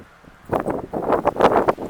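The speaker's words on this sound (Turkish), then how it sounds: "rüzgar çok sert esiyor" Strong gusts buffet the microphone in rough bursts, loud and close, with no talking, on the coast above Kız Kalesi.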